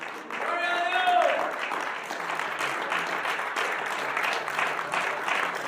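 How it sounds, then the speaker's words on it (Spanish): Church congregation applauding in response to a preacher's call, a steady broad wash of clapping with a voice rising briefly over it near the start. "Un aplauso al Señor."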